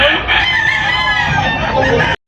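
A rooster crows loudly and close by in one long, harsh call.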